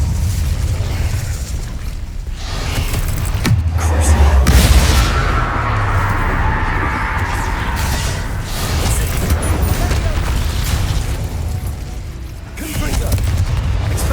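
Booming, explosive spellcasting from the Incendio fire spell in Hogwarts Legacy, with repeated loud bursts and roaring flame-like rushes across the whole stretch, under combat noise.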